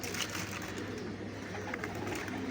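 Pigeons kept at a bird setup in Lahore coo softly and repeatedly at close range against a steady background hum.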